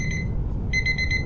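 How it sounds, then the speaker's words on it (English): A timer alarm in the space survival video game Empyrion Galactic Survival sounds as a series of sharp electronic beeps, pausing briefly midway before resuming, bright and clear over a low background hum. "I think that's our timer."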